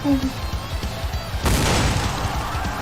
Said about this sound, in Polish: No i wybuch.